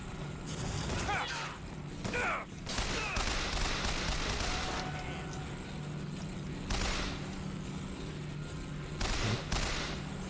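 Shotgun blasts and other gunfire in BioShock Infinite combat, loud bursts that recur across the stretch, with people talking over the shooting.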